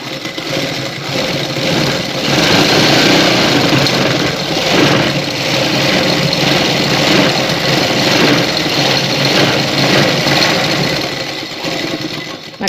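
A motorized sewing machine runs steadily while stitching a design on a shalwar hem, a loud close mechanical whirr with a fast rattling texture, holding constant for the whole stretch before easing at the end.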